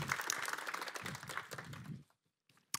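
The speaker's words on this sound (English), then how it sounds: "a big round of applause for Emma and Göran" Brief round of audience applause at a panel talk, dense clapping for about two seconds before fading out, with a faint sound at the very end.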